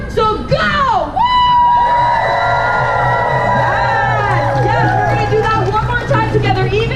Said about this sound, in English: I want 2 more really good screams together.